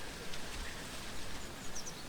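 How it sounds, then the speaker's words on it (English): Steady rain falling in a video game, a soft continuous hiss with light patter throughout, no voices. "I like the sound of the rain and the music and all that."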